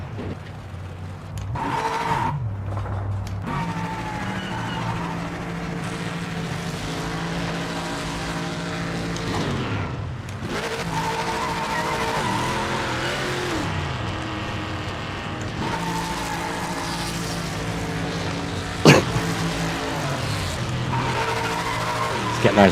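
Race car tyres squeal and skid repeatedly while being warmed up in a racing game, engine revving underneath in loud, sustained stretches broken by brief pauses, with a sharp bang near the end.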